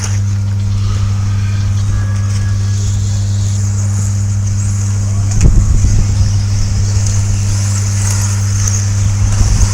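Racing cars in a Série M race pass by under a constant engine drone, with one louder pass swelling about halfway through.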